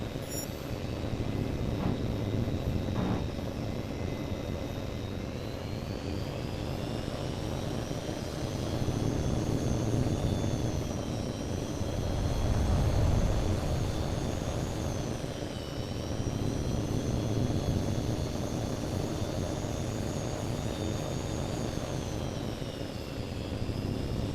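A steady jet engine roar drones continuously, its high whine rising and falling slightly as the aircraft flies a patrol circuit in the video game Tom Clancy's H.A.W.X 2, with no voices.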